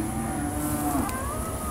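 Cattle low in a long, drawn-out moo at a livestock sale, steady and mid-distance over a continuous background hum, with no talking.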